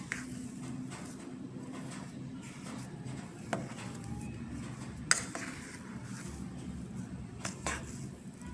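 Potato filling for aloo paratha being stirred and mixed with salt, turmeric, garam masala and chilli powder, giving soft scraping and a few light clinks of a utensil against a bowl over a steady low background.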